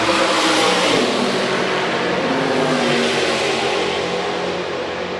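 Historic sports cars racing down the main straight at Sebring, a loud, continuous engine roar that rises and then slowly fades as the cars pass and move away.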